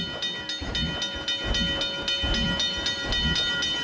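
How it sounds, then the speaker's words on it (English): In a theme park video game, a train rolls past a crossing with a steady clatter and hiss, regular rhythmic clacks repeating about twice per second, loud and close, with no talking. "Train crossing?"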